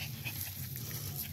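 Tibetan Mastiff dog panting close by, quick rhythmic breaths with faint whimpering tones, moderately loud and steady over a brief stretch with no talking.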